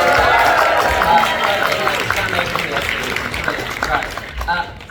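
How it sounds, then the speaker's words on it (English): Audience applause rises at a cosplay talent show in a convention lounge as a guest steps onto the stage, dense and loud at first, then thinning out, with voices and cheers mixed in. "Huge applause for Alan as he joins me on stage."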